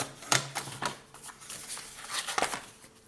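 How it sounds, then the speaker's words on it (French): Scissors cut through two stacked sheets of scrapbooking paper at once, giving several crisp snipping strokes at uneven intervals, close and fairly quiet. "je vais couper les deux en même temps."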